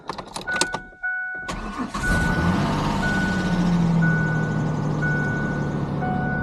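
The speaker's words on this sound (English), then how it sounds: "a little bit of 4-liter timing chain chatter" A 1994 truck with a 4-liter V6, 5-speed manual and four-wheel drive cranks and catches, then settles into a loud, steady idle close by, with a thin tonal beep repeating over the engine.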